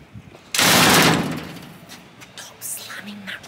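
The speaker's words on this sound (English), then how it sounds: "Stop slamming that door." A motel door slams with one loud, close, heavy bang that rings out briefly, followed by quieter knocks and shuffling as faint voices carry on nearby.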